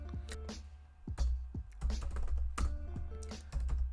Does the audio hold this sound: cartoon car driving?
no